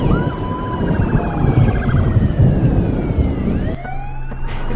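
Municipal police car sirens wail loudly and continuously through a town, several overlapping sweeping tones rising and falling, with a steadier siren cutting in near the end.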